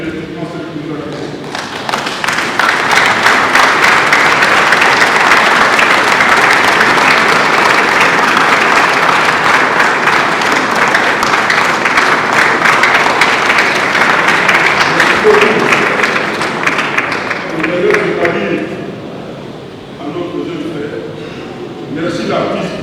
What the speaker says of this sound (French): demander à tout le monde de se mettre debout et encore une fois applaudir